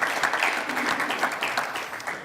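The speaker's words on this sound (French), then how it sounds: "On peut l'applaudir aussi." Audience applause at a start-up awards ceremony, a continuous, dense patter of many hands clapping at moderate volume, steady from start to finish with faint voices underneath.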